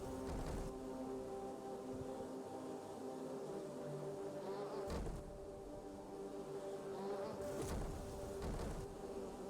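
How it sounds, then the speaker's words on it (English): Droning buzz of stinger bee enemies in Hollow Knight, a steady insect hum with low tonal layers running throughout, interrupted by a few brief louder bursts, no voices. "There's at least two of the stinger bees."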